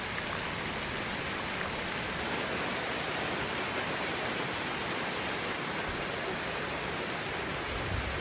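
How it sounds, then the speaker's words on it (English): Steady rain pours down around a cabin porch in North Carolina, a dense, even hiss of drops on surfaces that stays loud and unbroken throughout, with no voices. "we just relaxed on the porch where it rained."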